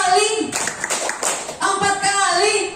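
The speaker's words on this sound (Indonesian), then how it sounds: "Tepuk 3 kali" During a concentration game at a school teacher-training session, a group claps hands three times in a short, quick burst. Voices are heard just before and after the claps.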